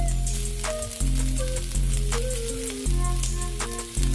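Peas, carrots and onions for Chinese fried rice crackle in a hot pan with a bright, steady sizzle. A low, steady hum sits underneath, broken by a few brief dips.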